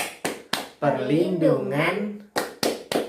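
An audience at a child-violence prevention session claps a rhythmic children's-rights chant: sharp, loud group claps open and close the clip, with a chanted spoken line between them.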